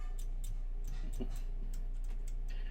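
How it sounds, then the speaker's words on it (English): Keyboard being typed on at a steady pace, a run of light, sharp clicks and taps close by over a constant low hum, with no talking. "hammering away on that keyboard"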